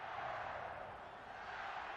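A big crowd of West Virginia supporters roars at Riverfront Stadium during a 1988 college football game against Cincinnati, a dense, sustained wash of cheering noise throughout.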